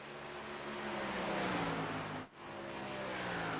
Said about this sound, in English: The engine sounds of the car.